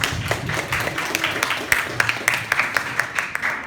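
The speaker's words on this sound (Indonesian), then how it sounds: "Tepuk tangan untuk kita semua." Audience applause at a student community-service (KKM) results presentation: scattered, uneven hand claps spread across the clip at moderate loudness, with faint background murmur.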